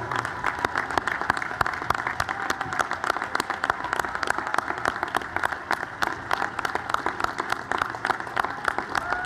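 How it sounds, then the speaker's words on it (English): A graduation audience applauds the class of 2018 at the UVA Darden School ceremony, with continuous, even clapping from a large crowd that stays steady throughout. "Let's have a round of applause for the entire class of 2018"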